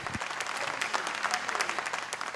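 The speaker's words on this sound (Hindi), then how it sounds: "मैं चाहूंगी ज़रा ज़ोरदार तालियां हो जाए उनके लिए।" A crowd applauding steadily, dense clapping from many hands at moderate distance, sustained evenly without any speech.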